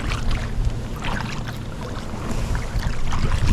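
A kayak paddle dips and pulls through the water in forward and sweep strokes, soft splashes and swishes repeating at an easy rhythm over steady outdoor wind noise, close to the microphone.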